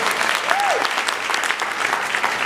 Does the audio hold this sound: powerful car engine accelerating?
no